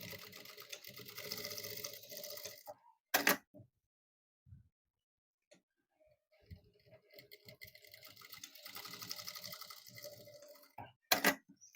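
A sewing machine stitches blouse fabric in short, close bursts of rapid mechanical clatter, with quiet pauses between runs.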